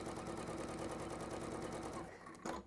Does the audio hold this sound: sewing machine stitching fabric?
yes